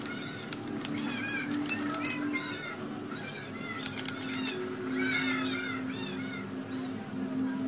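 Several Minecraft baby cats meow repeatedly in quick, overlapping high calls over a low game hum, with soft flapping and light clicks between them.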